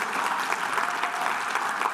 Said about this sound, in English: let's have some applause for all of your electeds